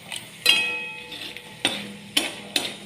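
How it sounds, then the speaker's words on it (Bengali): Peanuts frying in a pan with a little oil, salt, turmeric and dried chili, stirred in four or five distinct scraping strokes over a soft sizzle, close by and without speech. "বাদামটা ভেজে নেবো"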